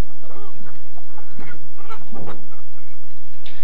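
Chickens cluck in a few short bursts, fairly close, with a brief higher squawk near the end and steady low hum beneath.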